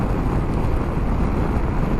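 Wind roars across the microphone during a motorcycle ride on a bendy road into Cedar Key, Florida, a loud, steady rushing buffet mixed with road and engine rumble that runs unbroken throughout.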